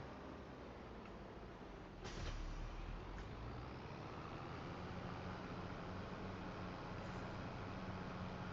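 A truck in Farming Simulator 25 brakes with a hiss of air, then a steady rumbling drone carries on at an even level, with no talking.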